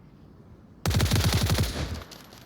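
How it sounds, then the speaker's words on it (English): A headshot in the VR shooter Onward, heard as a sudden close burst of rapid automatic gunfire, about ten sharp evenly spaced shots in just over a second, breaking a quiet background and leaving a short ringing tail. "And gets a headshot on Rival very quickly"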